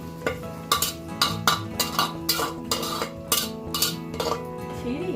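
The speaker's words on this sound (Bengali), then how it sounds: "মশলাটা কষানো হয়ে গেছে, এবার এর মধ্যে ছোলেগুলোকে দিয়ে দিচ্ছে।" Chickpeas being stirred into fried spice masala in a pan: a steady run of scraping strokes about twice a second, close and clear over a low background hum.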